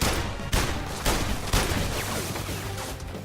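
Gunfire in the VR shooter London Heist, with several sharp broadband shots at irregular intervals over a dense, continuous background of game noise.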